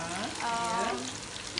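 Lotus tofu frying in hot oil, a steady close sizzle and crackle that fills the short stretch, with a faint voice briefly underneath.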